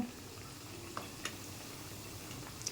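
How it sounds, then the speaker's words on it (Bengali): Oil sizzles in a steady, soft crackling hiss as pitha cakes fry, with a few faint ticks and clinks from the pan. "এখন তেল গরম হলে পিঠা ভাজা দিয়ে দেব"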